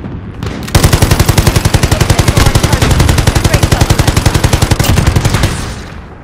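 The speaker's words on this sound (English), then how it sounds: "They're firing mortars. Take cover." A long, loud burst of rapid automatic gunfire in the Call of Duty: Modern Warfare video game, about five seconds of steady, closely spaced shots that stop abruptly, with no talking.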